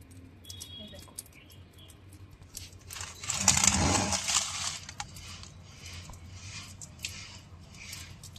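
Raw chicken is washed by hand in a kitchen, with soft wet squelching and a louder burst of splashing water in the middle before it settles back to quiet handling.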